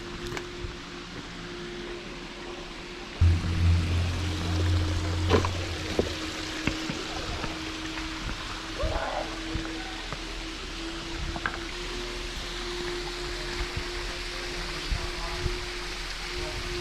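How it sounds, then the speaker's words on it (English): Cathedral Falls, a roadside waterfall, gives a steady broadband rush of falling water that runs the whole time, with a low rumble joining partway and a few faint clicks and knocks on top. "This is Cathedral Falls. It's a roadside waterfall"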